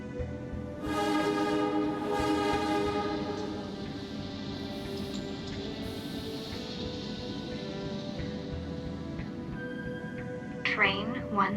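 Train pulling into a station in the game Primordia, a sustained mechanical rumble and rolling hum with a horn-like tonal blast near the start and a brief squeal at the end, heard alone without talk.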